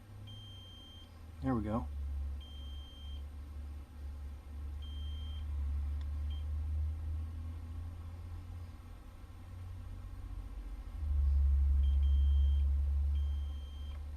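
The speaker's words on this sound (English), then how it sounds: "So continuity test passed. I don't have any short circuits there after my soldering." A multimeter beeps in continuity mode as its probes touch a freshly soldered pad on a Proffie 2.2 saber board, steady tones sitting under a low hum with a brief spoken remark.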